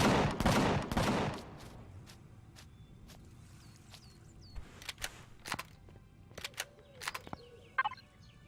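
Defensive turret fire aimed at aliens in the Empyrion Galactic Survival video game: a burst of heavy shots up front, then scattered sharp single cracks spaced irregularly over a quiet background.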